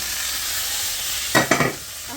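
Vegetable noodles stir-fried in a pan, a steady close sizzle with a brief burst of scraping and tossing near the end, no voices.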